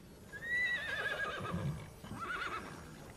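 Horse neighing in the Tiny Tina's Wonderlands video game, one clear, close whinny with a falling tail and a shorter second whinny after it.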